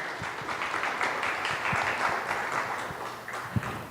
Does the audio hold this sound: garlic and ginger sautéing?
no